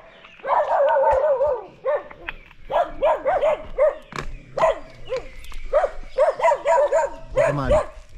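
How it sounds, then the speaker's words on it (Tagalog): Dogs bark and yip repeatedly on a mountain climbing trail at Kabayunan, with close, sharp bursts in quick irregular runs that continue almost without a break. "Itong mga asong to walang pakisama oh."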